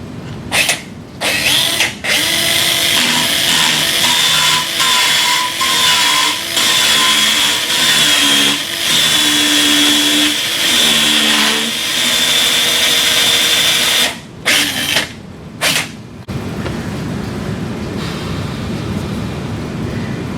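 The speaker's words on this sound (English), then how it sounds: "Take the appropriately sized radial surface reamer and drive it over the guide pin until the nose of the surface reamer bottoms out on the radial depth guide." A radial surface reamer is power-driven over a guide pin into a Sawbones wrist model during a total wrist arthroplasty technique, with a steady whirring drill tone over many seconds, broken by brief stops and restarts.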